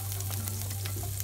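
Garlic sautéing in melted butter in a pan, a close, even sizzle and crackle running through the whole short stretch with a low steady hum beneath; no talking.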